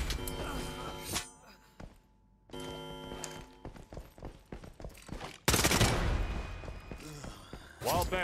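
A Mauser C96 pistol fires in the shooter game Lost Light, with sharp shots and bursts scattered through the clip while a voice talks over them.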